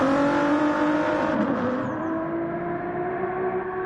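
Race cars from a Le Mans endurance racing video game, Porsches among them, roar past as a steady, loud, high-revving engine drone with a pitch that shifts slightly while cars approach and pass.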